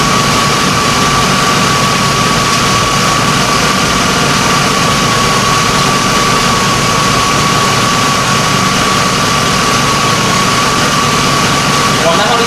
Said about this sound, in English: The engine actually started. It started up on the first go.